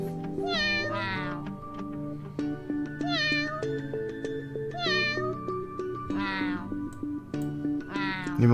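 Two cat protagonists of the mobile space game Miaoqi Planet meow repeatedly, about six bright, close meows in irregular pairs, riding over continuous game background music.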